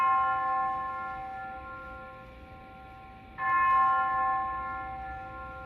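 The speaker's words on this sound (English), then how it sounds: "The bell invites me." A bell tolls during a stage performance of Shakespeare's Macbeth, two resonant strikes with a long ringing decay, moderately near and alone without voices.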